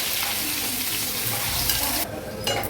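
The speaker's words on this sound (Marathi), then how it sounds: "कांदा थोडासा आपण परतून घेऊया" Chopped onion and curry leaves sautéing in a pan, a loud, steady close-up sizzle with stirring scrapes, the hiss briefly dropping near the end before returning; no speech.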